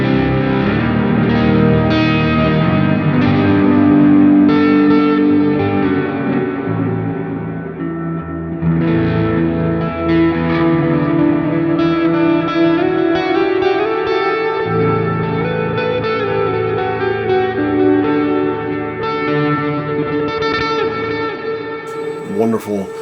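Electric guitar through a Neural DSP Archetype Plini, with a crunchy, medium-gain distorted tone and ambient effects, sustained chords in an alternate tuning ringing continuously at a loud, even level.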